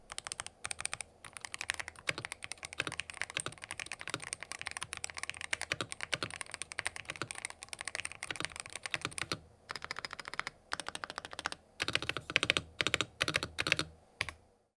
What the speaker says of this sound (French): on peut passer à présent au sound test du clavier